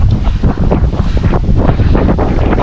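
Strong wind buffets the microphone in a constant, loud roar, with a watery wash underneath and no voices.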